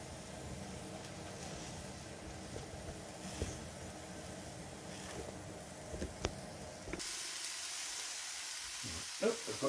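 Diced bacon sizzling on a Masterbuilt 1050 gravity-fed charcoal grill, a steady faint frying hiss with small pops, cutting to a quieter, thinner sizzle near the end.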